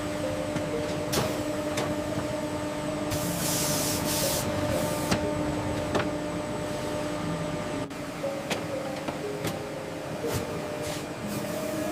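Precision printing system in a factory laying the first graphic layer onto FIFA soccer match ball panels, a continuous mechanical hum with steady tones and brief airy hiss bursts, running at even level throughout.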